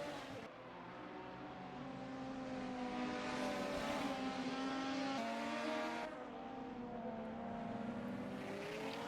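A race car engine from a sim racing game at the Townsville round of an ATCC touring car series, revving and droning steadily with shifting pitch across the whole stretch, loud and continuous, with no voices over it.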